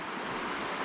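River water rushes and churns steadily at close range in the late afternoon, a dense, even wash of flowing water with no pauses or voices.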